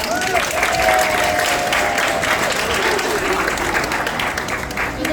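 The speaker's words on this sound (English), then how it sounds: "so give her a big round of applause." Crowd at a sea lion show at the New England Aquarium breaks into loud, sustained applause, dense clapping filling the whole stretch with faint whistle-like tones and crowd noise mixed in.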